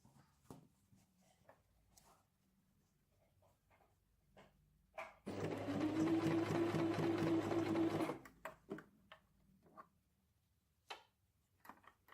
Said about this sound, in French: Et on coud.